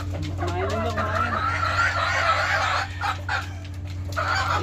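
Hens cluck loudly and continuously at close range while being fed, a busy overlapping chorus of bird calls with a steady hum underneath.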